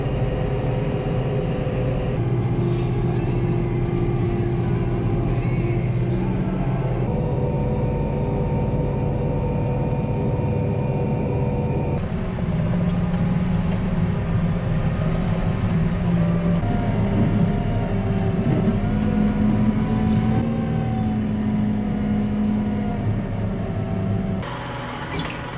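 Farm vehicle hauling a Discbine on the road home, a continuous droning engine and road rumble with gear-like shifts in pitch, steady and fairly loud with no voices.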